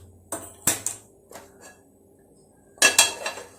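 A pressure cooker set down on a stove, sounding as a few sharp metallic clanks and knocks spaced apart, with a final cluster of clattering contact near the end, close and distinct with no talk.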